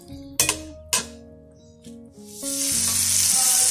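Bean sprouts stir-fried in a pan: a couple of sharp clinks of utensil on metal, then a loud, steady hiss of sizzling oil that swells and holds to the end.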